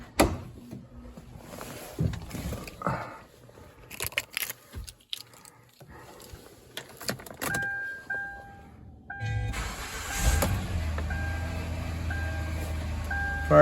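A Kia Rondo's 2.7-liter Hyundai V6 cranks and fires up after keys jangle and dashboard chimes beep, settling into a steady close idle hum.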